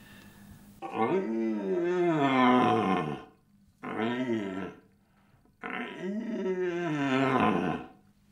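A red deer stag gives three long, deep bellowing roars, close and loud, separated by short pauses.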